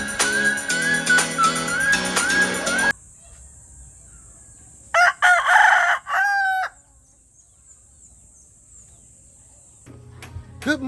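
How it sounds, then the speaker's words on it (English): A rooster crows in bursts around a house construction site in the Philippines, loud and close, with a short crowing call after music fades, then quiet. "You heard what the doggone rooster said."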